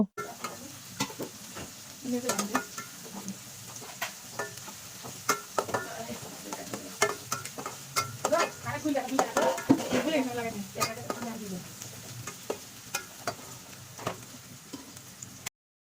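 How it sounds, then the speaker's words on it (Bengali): Cinnamon, cardamom and torn bay leaves being stirred and fried in a pan for chicken curry: a continuous soft sizzle with clinking utensil scrapes against the pan, busiest in the middle, no talk. "দুইটা তেজপাতা ছিঁড়ে দিয়ে দিব ভালো মতো নেড়ে চেড়ে মশলাটিকে ভেজে নেব"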